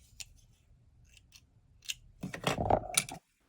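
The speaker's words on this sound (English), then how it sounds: "I love these thread snips, particularly for thin thread." Small thread snips make a few quiet, crisp clicks, followed by a brief cluster of closer, louder snipping and rustling before everything falls silent.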